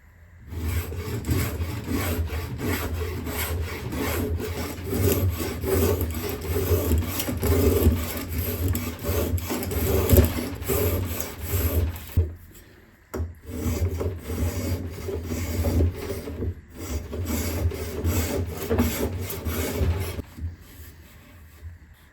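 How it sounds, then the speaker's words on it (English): Spokeshave shaving down a wooden part for a custom guitar, long runs of rasping, scraping strokes close up, repeated steadily with short pauses between passes and no talking. "I'm going to get the spoke shave and shape this thing down"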